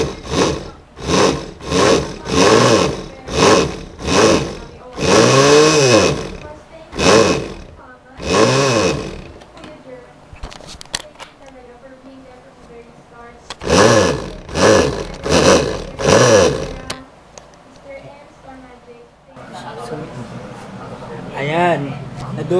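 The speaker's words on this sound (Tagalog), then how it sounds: "dudurugin na natin yung bawang sa blender para hindi siya malalaki pag nilagay na natin sa tinapay." Blender crushing garlic cloves for garlic bread, loud grinding bursts pulsing on and off in short repeated runs, with quieter stretches between and a voice talking in the background.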